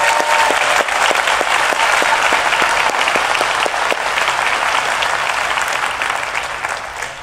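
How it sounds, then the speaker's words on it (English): A large audience at the DEF CON 20 hacking conference breaks into sustained applause, with sharp individual claps crackling through a thick, loud wash that slowly thins toward the end. "Let's give Sci-Fi a big round of applause and DEFCON kids"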